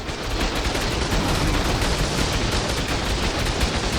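Turrets fire nonstop at a Zombie Wyvern in a video game, a dense, loud barrage of rapid gunfire that blurs into a continuous roar for the whole stretch, with no talking.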